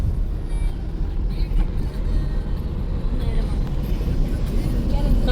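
Steady low road rumble inside a moving car, continuous and fairly loud throughout, with a faint murmur of voices underneath.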